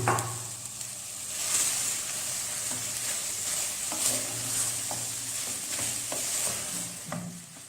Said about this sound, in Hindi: अभी हम इसमें ऐड करेंगे चिकन और चिकन को भी अच्छी तरह फ्राई कर लेंगे